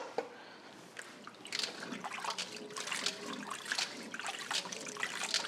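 Freshly blanched carrots slip into a basin of water, giving a steady run of splashing, trickling and dripping at close range that carries on throughout with no talking.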